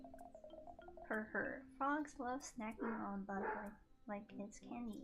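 A dog named Kogi barks somewhere in the background, faint and intermittent, almost buried under a close voice talking steadily throughout.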